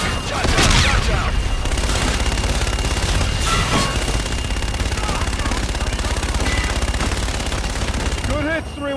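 Air-strike gunfire in the Call of Duty Infinite Warfare video game pours down as loud, dense, sustained bursts, an almost continuous rattle with heavy low thuds mixed in.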